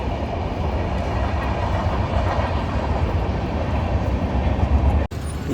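A train passes through Cherlapalli railway station with a loud, steady, close rumble and rush of wheels on the rails that cuts off abruptly near the end.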